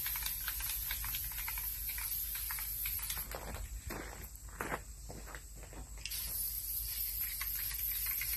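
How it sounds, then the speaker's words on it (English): Faint bursts of hissing spray onto a wooden log for a step hand rail come in short pulses against a quiet background, with a longer sustained spray in the middle stretch. "Just gonna spray that."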